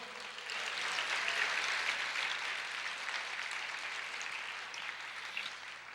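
A church congregation applauds together during a sermon, a steady wash of many hands clapping that holds evenly for several seconds at moderate loudness, with no voices over it.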